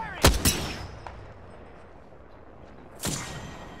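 Gunfire in the shooter game Apex Legends: two sharp shots close together, then a pause and another loud shot, heard alone against faint background ambience.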